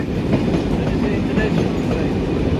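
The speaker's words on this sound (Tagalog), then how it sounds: "That is the international train." A TGV international train rolls past nearby in Paris, a steady, loud broadband rumble of wheels and carriages filling the whole stretch without pause.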